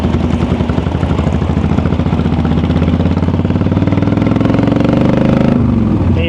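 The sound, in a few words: motorcycle engine running rough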